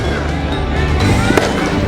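Fireworks go off in a street in Cali, Colombia, on New Year's Eve, a loud, dense, continuous crackle and roar with one sharper bang near the end.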